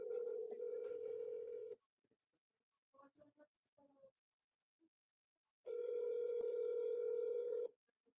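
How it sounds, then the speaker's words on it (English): A phone voicemail greeting tone plays as two long steady electronic beeps, one near the start and one near the end, with a few faint short blips in the quiet gap between them. "At the tone, please record your message."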